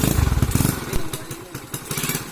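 Modified motorcycle engine revved during a test, a loud close-up throaty burble with rapid pulsing firing that rises and then settles into a rougher, uneven rumble.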